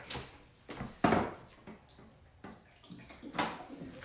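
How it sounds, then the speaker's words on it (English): Water poured into wet pizza dough in a bowl: soft, close splashing and sloshing in a few uneven bursts, with brief squishy pours spread over a few seconds and no talking. "I'm going to add a bit more water."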